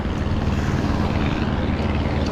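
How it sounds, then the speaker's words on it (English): A steady, loud propeller-plane engine roars over a beach, the drone constant and close with wind mixed in. "And we get to watch the airplanes fly by."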